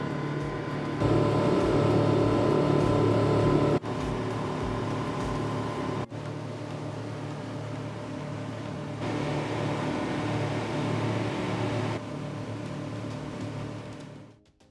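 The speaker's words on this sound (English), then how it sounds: "It's a little hard to talk over the noise of the outboard motors." Steady, loud drone of boat outboard motors with a deep low rumble runs throughout, shifting level a few times, then fades out at the very end.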